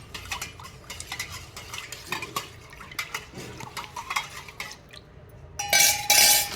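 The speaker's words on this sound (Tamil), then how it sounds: "நெக்ஸ்ட் நல்லா எல்லாத்தையும் மிக்ஸ் பண்ணி நல்லா கலந்துக்கலாம்." A spoon stirs and mixes summer buttermilk drink ingredients in a vessel, giving steady rhythmic clinks and scrapes close up, ending in a brief louder splashy rush, with no talking.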